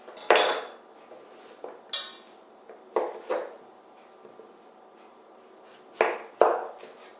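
Knife slicing vegetables for a homemade cream of vegetable soup, cutting against a board in a handful of sharp, close taps spaced unevenly apart, with quiet gaps between.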